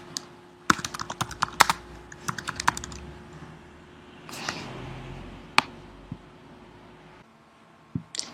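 Rapid keystrokes on a computer keyboard as a logo name is typed in Photoshop, coming in quick clustered bursts with short pauses, close and fairly quiet, with a soft click near the end.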